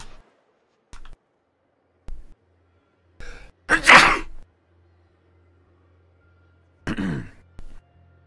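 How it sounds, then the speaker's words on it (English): A single loud sneeze bursts out near the middle, followed a few seconds later by a second sharp sneeze-like burst, with scattered small clicks and breaths in an otherwise quiet room. "sneezed"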